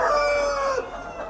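A rooster on a chicken breeding farm gives a short crow against a busy background of other fowl, loud and near, fading after about a second.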